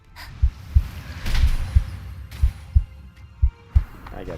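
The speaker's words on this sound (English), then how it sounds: "It's got the heartbeat when you get low." The low-health heartbeat warning in the video game ELYON thumps in repeated double beats at a steady rhythm, loud and close over faint game ambience.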